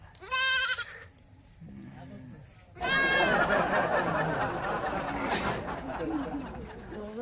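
Goats bleat close by in a few loud, wavering calls, while people chatter in the background.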